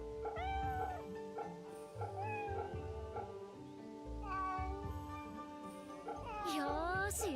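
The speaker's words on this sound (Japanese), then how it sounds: "Yo, I see the cat." Cat meowing in the video game Fate/Samurai Remnant, several drawn-out, rising meows spread across the stretch, with a longer wavering cry near the end, over a low music bed.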